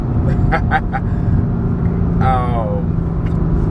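Turbocharged BMW M4 with a BM3 stage 2 tune driving, a steady close engine and road rumble filling the whole stretch, with people talking over it.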